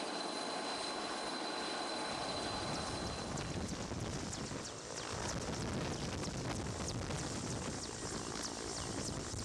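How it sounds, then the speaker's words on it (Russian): A helicopter's rotor thumps and loud turbine whine fill the frosty Siberian air, close at first and steadily drawing off, with wind buffeting throughout. "Быстро разгрузив вертолет, экипаж спешит улететь."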